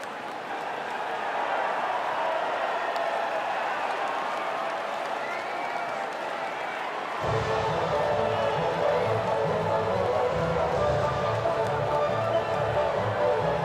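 A podium crowd cheers and applauds in the F1 24 racing game, a steady wash of distant cheering that swells louder halfway through, with no speech.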